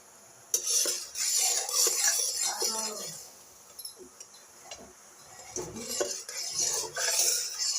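Jaggery heats and is stirred in a pan, with a spoon scraping and clinking against the metal in irregular bursts over a soft cooking hiss, close by and with no talk.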